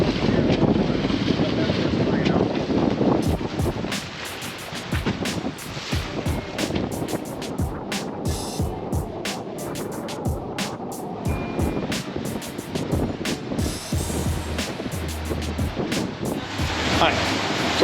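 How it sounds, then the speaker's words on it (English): A sailboat under way at 10 to 11 knots, regenerating power while sailing, rushes through waves. Steady wind buffets the microphone, water sloshes continuously along the hull, and sharp knocks and creaks from the boat repeat irregularly throughout. "right now we are sailing in the 10, 11 knot range"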